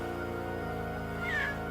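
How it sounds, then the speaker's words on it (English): A cat meows once in a film scene, a short rising cry standing out briefly over a steady background of music or ambient tones. "I wasn't expecting the cat noise."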